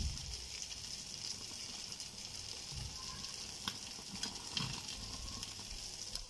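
Tandoori chicken roasts over a high gas flame, giving a steady low sizzle and hiss with a few faint crackles and pops throughout, no voices.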